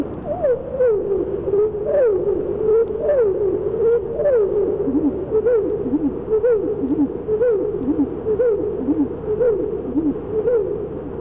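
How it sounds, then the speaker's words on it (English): A recorded bird song repeats a short slurred whistled phrase roughly every second, loud and close, with a rumbling background hiss beneath it. "entirely different phrases used by this bird may be heard in the following song"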